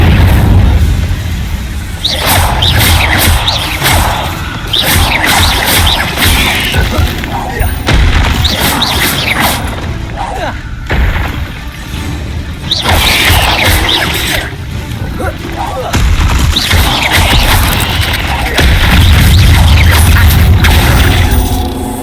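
Incendio fire spells cast repeatedly in Hogwarts Legacy, loud bursts and whooshing blasts with thuds and mechanical clatter, several distinct hits in sequence, with occasional speech over the effects.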